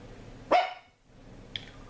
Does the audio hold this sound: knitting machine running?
no